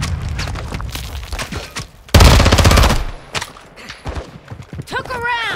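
Call of Duty DMZ gunfire: a sharp volley of loud automatic shots erupts midway through, preceded and followed by scattered single shots and thumps, with voices talking over the action.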